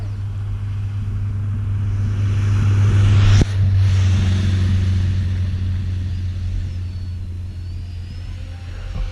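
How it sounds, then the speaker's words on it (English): A quad-motor delta drone's propellers hum steadily in flight, then a sharp crack and a brief stutter mark a motor desync before the whine settles into a lower, wavering drone that gradually fades. "Oh no, motor desync."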